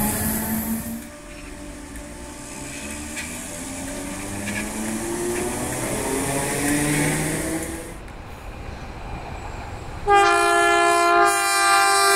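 A train rumbles past with rising and falling mechanical tones, then quiets before a loud, steady horn-like tone sounds near the end.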